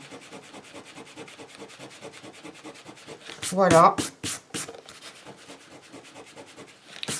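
A homemade eraser rubbing out pencil marks on paper, a quick rhythmic scratchy rubbing throughout, with a louder burst of strokes midway and a voice speaking briefly.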